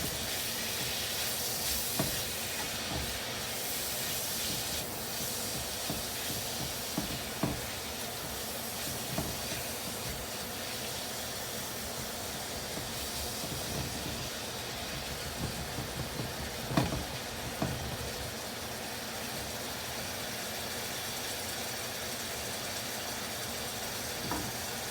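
Chopped meat browning in a pan, a broad continuous hiss and sizzle with scattered small pops and scrapes, steady and close for the whole stretch.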